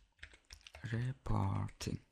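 Keys clatter on a computer keyboard while someone types PHP code, a quick burst of light taps mixed with close, fairly loud speech.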